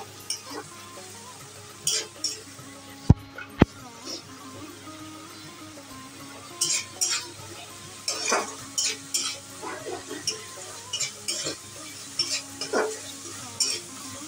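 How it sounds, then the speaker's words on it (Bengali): Spice paste for chicken do pyaza sautéed in a pan with a splash of water, giving intermittent soft sizzles and repeated spoon scrapes and stirring clinks, plus two sharp metallic knocks early on, all close and without talk. "মশলা ধোয়া জল দিয়ে ভালো করে কষিয়ে নেব"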